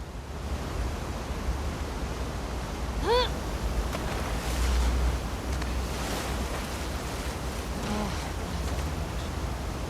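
Rushing water current flows steadily through flooded Seattle sewers in The Last of Us Part II, a dense, continuous wash with surging swells and a couple of brief tonal chirps on top.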